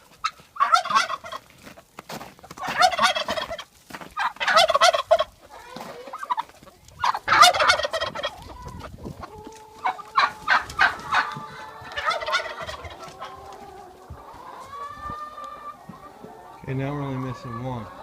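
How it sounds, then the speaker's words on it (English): Loose turkeys on a farm gobble in repeated loud bursts, several calls in quick succession, close by, with other fowl clucking and a brief voice nearby. "We got 3 turkeys loose."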